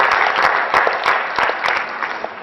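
Warm round of applause from an audience honoring students at Knox, steady crowd clapping with a few louder individual claps standing out, heard alone with no talking.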